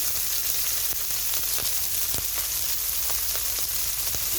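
Chopped onion and green chili frying in oil in a pan for bata fish, a loud, dense, continuous sizzle close by with scattered pops and occasional stirring scrapes, no speech.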